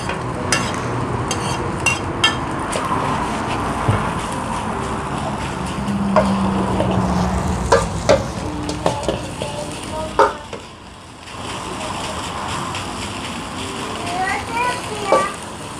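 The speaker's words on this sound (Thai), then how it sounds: "กำลังทำข้าวผัดกุ้งให้เอาไหมอ่ะ ใส่ใส่ข้าวไปเลยครับ" Shrimp fried rice stir-fried in a pan, a steady sizzle with repeated scraping and clanking of the utensil against the pan, beneath an adult and someone talking nearby.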